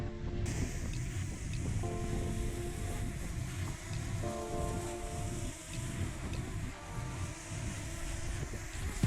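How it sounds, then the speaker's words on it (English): Strong wind buffets the microphone at a WWII coastal defence fort near Makara, New Zealand, a loud continuous roar with a faint motor whine tied to a struggling drone. "Yeah, it's really, really windy."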